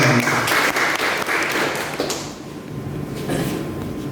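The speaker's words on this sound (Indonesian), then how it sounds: "Tepuk tangan untuk Anda semua." Seminar audience in Merangin, Jambi claps for a short spell, the clapping strongest at first, then thinning and fading before a brief renewed patter.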